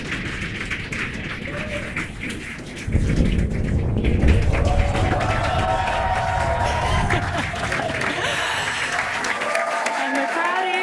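Spectators at a SpaceX Falcon 9 launch cheer and applaud as the first-stage booster touches down on Landing Zone 1, a dense, steady roar of clapping and shouting that swells after a few seconds and holds, with voices mixed in.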